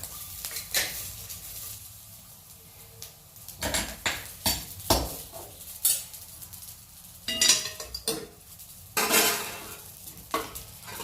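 Fried garlic cloves being scraped and lifted out of a hot pan, with repeated clinks and scrapes of a utensil against the pan over a faint background sizzle, no talking.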